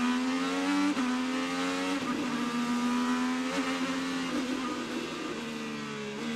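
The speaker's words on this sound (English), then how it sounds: "Listen to the throttle here." A race car engine feathering its throttle through a fast chicane, a loud, steady buzzing drone broken by several brief dips and gear-change stutters, heard alone without talk.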